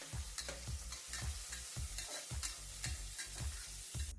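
Two large onions and four green chilies frying in oil for a biryani, stirred in a quick, regular rhythm: about nine crisp scrape-and-clack strokes over a low sizzle, close by and quiet, with no speech.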